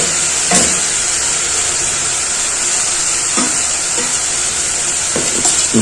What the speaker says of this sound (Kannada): ಚೆನ್ನಾಗಿ ಫ್ರೈ ಆಗಲಿ ತರಕಾರಿ ಎಲ್ಲ.